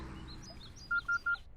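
Three short, evenly spaced telephone keypad dialing tones beep in quick succession, loud and clear over a faint background murmur, in a comedy scene.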